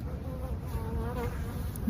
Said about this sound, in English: I think a bee is out.